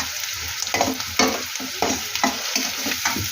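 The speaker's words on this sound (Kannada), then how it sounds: "ಇದನ್ನು ಎಣ್ಣೆಲ್ಲ ಚೆನ್ನಾಗಿ ಫ್ರೈ ಮಾಡ್ಕೋಬೇಕು." Ground coconut paste fries in oil with onions, a steady loud sizzle broken by regular scraping stir strokes, close and alone without any voices.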